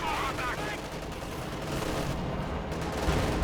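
Dense battle noise from Company of Heroes 2 as a Panzer IV tank fires, with booming shots and continuous gunfire rumbling at steady loudness while a commentator talks over it.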